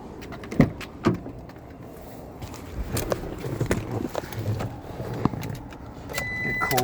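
A 2021 Toyota Tacoma starting from cold, its engine settling into a steady low rumble, with a few sharp clicks and clunks of keys and cabin handling layered over it at close range.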